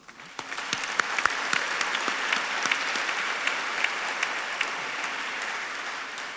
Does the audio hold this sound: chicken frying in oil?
no